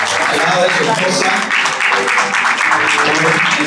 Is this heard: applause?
yes